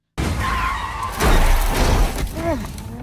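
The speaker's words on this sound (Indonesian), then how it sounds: "Mobil Jan menabrak pembatas di saat Jack ikut di dalamnya." A race car slams into a trackside barrier with a loud smash and crunch, skidding and scraping afterward, while tire squeal and engine noise rise and fall.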